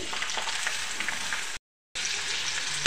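Curry leaves and a tomato hit hot oil in a pan, a loud continuous sizzle and crackle broken by a brief silent gap, then sizzling again.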